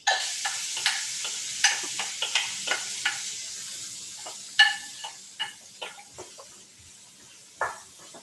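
Onions and vegetables sizzling in a pan while being tossed, a constant soft frying hiss with scattered scraping clatters of stirring, close and moderately loud, no voices.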